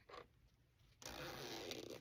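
A fabric pouch's zipper rasps briefly, pauses, then runs in a longer, continuous close-up pull lasting about a second.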